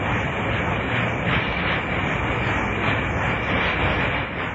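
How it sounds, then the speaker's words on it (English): A long-haul freight train on the Kansas plains rumbles past close by, a loud, steady roar that holds at an even level throughout. "This is a train that is highballing it on a long haul."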